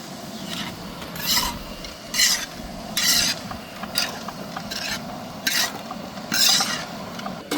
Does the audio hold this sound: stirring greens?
yes